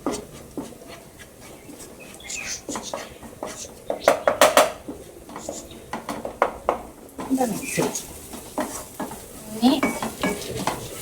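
Coriander powder roasting in a pan, with a light sizzle under spatula scrapes and clanks against the pan, while a person speaks briefly.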